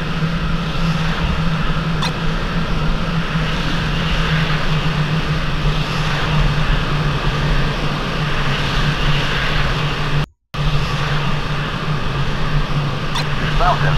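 A steady jet engine drones at idle as a fighter taxis in the flight simulator Falcon 4.0 Allied Force, a continuous loud hum with a brief dropout near the end.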